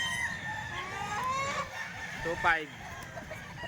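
A rooster crows and clucks amid a noisy outdoor scene while someone talks nearby.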